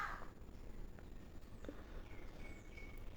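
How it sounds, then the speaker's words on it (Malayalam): A crow caws a few times at moderate distance, faint over a steady background hiss and hum in a home setting, with no talking. "കാക്ക അതിൻ്റെ ഇടയ്ക്ക് ഡിസ്റ്റർബ് ചെയ്യുന്ന"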